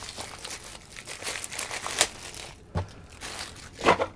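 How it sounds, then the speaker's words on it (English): Plastic packaging crinkles and crackles as it is pulled off a Waggle RV camera, close handling with scattered sharper crunches amid steady rustling. "let's open this first, get that plastic out of the way."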